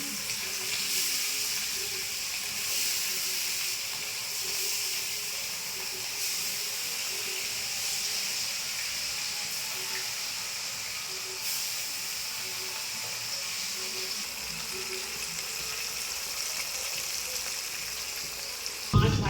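Small chara fish coated with salt and turmeric, with black cumin paste, fry in hot oil, giving a continuous loud, even sizzling hiss that holds steady throughout without speech.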